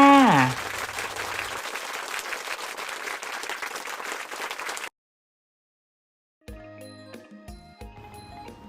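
Young kindergarten pupils clap for themselves after answering correctly in a Loy Krathong lesson. Steady, busy clapping runs for about five seconds, cuts to silence, then light chiming music follows.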